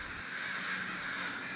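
Crows cawing, gathered in a large flock, a dense harsh wash of overlapping calls that stays steady and fairly faint throughout.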